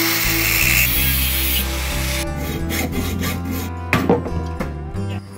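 A metal piece is sawn in half before being melted in a crucible for casting a 150cc four-stroke engine barrel. Steady, close rasping strokes give way to rhythmic back-and-forth cuts with a few sharper scrapes near the end.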